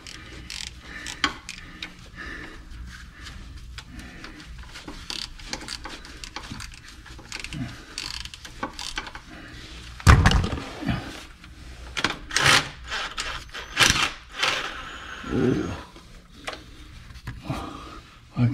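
A 2013 Toyota Sienna Limited AWD's noisy rear differential is turned by hand with a flathead screwdriver, producing irregular metallic clicks, clunks and ratcheting gear rattles up close, with a louder burst of scraping and knocking partway through.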